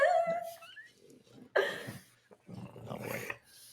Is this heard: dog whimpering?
yes